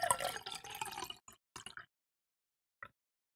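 Liquid is poured into a flexible bowl in short splashy bursts, close and fairly quiet, with a single brief drip after a pause.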